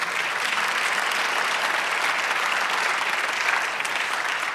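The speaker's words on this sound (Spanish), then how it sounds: "Denle aplauso" A church congregation applauds during a sermon, steady dense clapping at moderate volume carrying on evenly throughout, with no one speaking over it.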